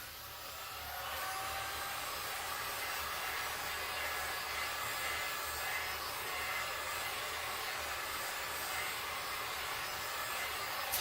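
A heat gun blows a steady, airy hiss close by while warming poured resin on a record album, the continuous whoosh running unchanged with no speech.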